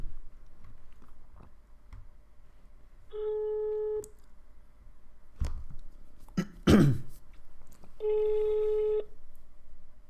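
Ringback tones sound on a phone line while a number is dialed, two long steady beeps several seconds apart. A cough and a throat clear come between them, and the line is otherwise quiet.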